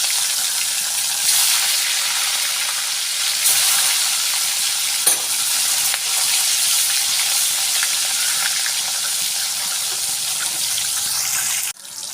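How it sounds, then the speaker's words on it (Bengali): Catla fish pieces fry in hot oil, a loud, constant crackling sizzle with a few brief clatters as the pieces are moved, ending in a short knock; no one speaks. "তেলটা গরম হয়ে গেছে, মাছগুলো ভেজে নিই।"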